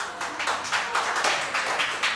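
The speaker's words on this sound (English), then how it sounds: "Burst of applause." A brief burst of studio audience applause follows a joke on a bachelor-style dating game show, a dense patter of many hands clapping at a steady level with no talk.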